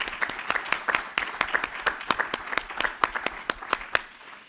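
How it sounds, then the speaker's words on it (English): An audience at a public health heroes awards ceremony applauds in a moderately distant, steady patter of overlapping claps that carries on for several seconds without a break. "Could we please give a round of applause?"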